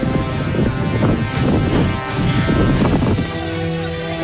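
Strong wind roars and buffets continuously around a forest fire at Bromo in the Tengger caldera near Probolinggo, loud, close and gusting, with no talk.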